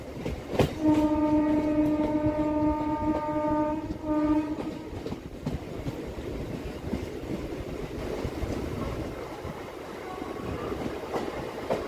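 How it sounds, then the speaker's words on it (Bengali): A Howrah-Barddhaman fast MEMU local train pulls into Barddhaman junction station at night after rain, sounding a long loud horn blast, then rumbling and rattling close by as the carriages roll in. "ট্রেন বর্ধমান ঢুকলো 3:42-এ"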